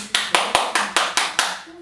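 Seven sharp, evenly spaced hand claps in quick succession, close and crisp, each ringing briefly before the next, with a faint voice tone underneath.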